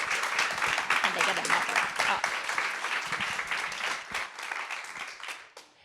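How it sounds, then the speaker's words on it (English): Audience clapping at a conference stage event, a full burst of applause from a seated crowd that stays strong for several seconds and then thins out and fades near the end. "Let's give you an applaud."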